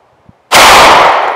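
A single loud, close pistol shot from a Sig P365XL firing 124 grain +P ammunition over a chronograph. A sharp crack is followed by a brief ringing decay.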